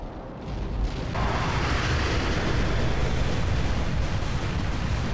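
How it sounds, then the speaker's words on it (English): Cluster bomb explosions in the video game World in Conflict form a dense, continuous rumbling roar of blasts that starts abruptly and stays loud throughout. "That's a lot of cluster bombs."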